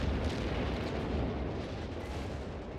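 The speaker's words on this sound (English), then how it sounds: "Where's the artillery coming down? I hear it." Artillery fire rumbles through a 3v3 match of Company of Heroes 3 on the Montherme map: a dense, continuous roar of distant booms and blasts, steady throughout with no voices.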